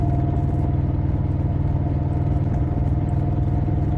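A motorcycle engine runs steadily up close, a continuous low rumble with dense rhythmic pulsing and light mechanical clatter, no speech, steady and loud throughout.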